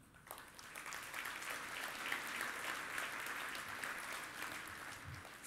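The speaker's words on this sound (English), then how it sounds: "Give yourself a round of applause" A conference audience at a homelessness alliance event gives sustained applause, a dense wash of many hands clapping at moderate distance with no voices over it.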